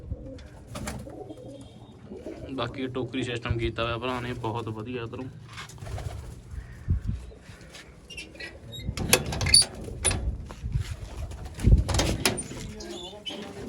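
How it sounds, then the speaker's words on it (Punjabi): Large pigeons coo repeatedly nearby while someone talks over them, with occasional clattering knocks toward the end. "ਭਰਾ ਦਾ ਸਾਰੇ ਵੱਡੇ ਕਬੂਤਰ ਨੇ"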